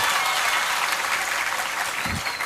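Steady, dense applause from the audience at a religious gathering marking a memorial haul, with the clapping continuing evenly throughout.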